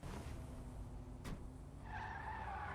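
A car in the video game GTA, modified toward a rally style, gives a steady engine roar, then a tire skid squeals in over it near the end.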